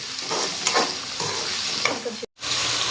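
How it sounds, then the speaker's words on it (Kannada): Thin, lengthwise-sliced tomatoes stirred and fried in a pan for tomato gojju: a close sizzle with repeated scraping strokes of a spoon, a brief dropout near the end, no voices. "ಈ ಥರ ಚೆನ್ನಾಗಿ ಮಿಕ್ಸ್ ಮಾಡ್ಕೊಳ್ಳೋಣ್ರಿ"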